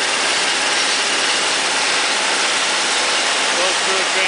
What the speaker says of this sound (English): They got an engine-powered unit here, a 4-cylinder engine.